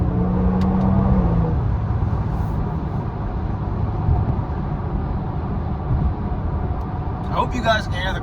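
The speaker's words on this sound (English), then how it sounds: "I hope you guys can hear the car," A stock 2026 Genesis G70 Sport drives at speed, its engine and road noise forming a steady rumbling drone with slight swells, accompanied by someone talking over it.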